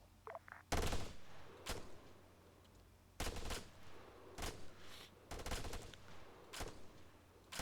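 Squad gunfire in the military shooter game Arma 3: several sharp bursts of automatic fire and single shots crack out in irregular clusters, fairly quiet overall with gaps of near silence between volleys.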